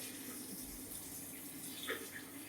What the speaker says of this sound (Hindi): अब हम इसमें कलश में पानी भर देंगे